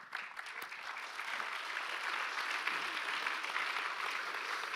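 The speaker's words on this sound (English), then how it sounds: "Let's give a really warm round of applause to our panelists." Audience applause for panelists at an event on Palestine and Minneapolis, a steady, dense wash of many hands clapping that holds at an even level throughout.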